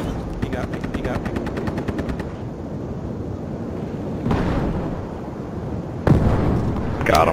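Chattering automatic gunfire opens a close-quarters Battlefield Hardline fight on the Dust Bowl map, followed by two heavy blasts as a grenade detonates amid the shooting, with players talking over the noise.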